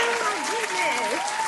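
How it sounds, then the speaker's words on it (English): Applause greets a guest on a morning radio show, a continuous wash of clapping lasting the whole short stretch, with speech-like tonal voices riding over it. "Let's give her another round of applause."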